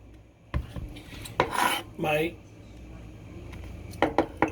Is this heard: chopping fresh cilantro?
yes